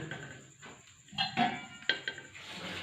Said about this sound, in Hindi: कढ़ाई को चूल्हे पे चढ़ा लेंगे।